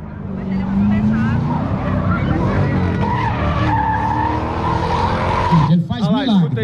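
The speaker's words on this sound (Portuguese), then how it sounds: "Vamos lá, Múcio Eustáquio agora, vem de lado. Camaro amarelo" A yellow Camaro drifts at a Brasília drift championship, its tires squealing in a long, loud, wavering screech over a roaring engine, close by, with commentary running underneath and a sharp warbling squeal near the end.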